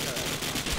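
Gunfire in a Rio favela battle in Call of Duty: a brief, dense rattle of shots at moderate loudness.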